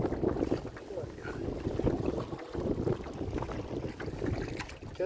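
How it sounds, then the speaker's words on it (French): Headwind buffets the microphone of a canoeist paddling in La Mauricie park, a low, steady rumbling gust noise with faint water sounds underneath. "j'ai toujours le vent en face encore"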